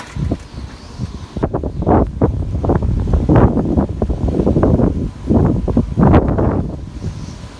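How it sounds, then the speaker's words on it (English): Strong gusts during Hurricane Irma tearing through yard trees, loud surging bursts of wind and rustling branches rising and falling in waves, buffeting the microphone, with no talking. "trees over here blowing like crazy"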